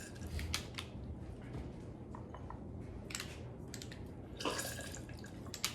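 A lemon is squeezed by hand into a drink for a spicy shandy cocktail, giving soft wet squelches and scattered drips of juice over a faint background hiss.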